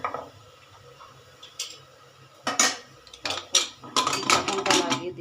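Greens seasoned with salt and chili are stirred in a pressure cooker, producing sharp metallic scrapes and clinks of a spoon against the pot in short bursts that grow busier toward the end, close and fairly quiet.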